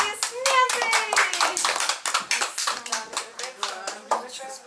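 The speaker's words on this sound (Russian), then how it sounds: "Аплодисменты!" A small group applauds at an award ceremony: close, distinct handclaps in a lively uneven rhythm lasting several seconds, with a voice briefly audible over the start.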